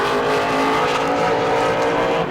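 Super late model race car number 22 at New Smyrna speedway accelerates up to speed on track, a loud continuous engine roar filling the whole moment without pause.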